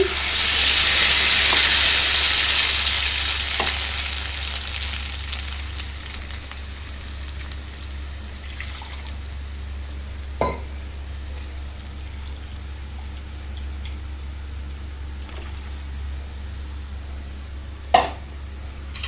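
Ground spice paste hits hot oil for an eggplant masala curry, with a loud initial sizzle that gradually settles into a steady, softer frying hiss, with occasional utensil clicks.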